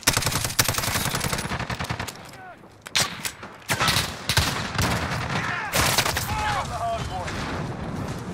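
Rapid automatic gunfire in a Call of Duty match on the Shoothouse map, repeated loud bursts and single cracks in quick succession, with game voice callouts mixed in.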